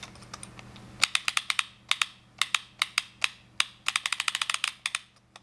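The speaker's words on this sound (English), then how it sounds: "This should be a very slow firing rate, 3-round burst" A Phenom-programmed airsoft gun fires slow three-round bursts, making crisp, close mechanical clicks in quick clustered groups separated by brief pauses, with nothing else in the background.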